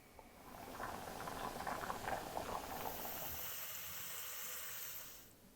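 A pot of water with whole grains boiling on the stove, giving a steady close bubbling and hissing that builds and continues throughout, with a higher steamy hiss toward the end and no talking.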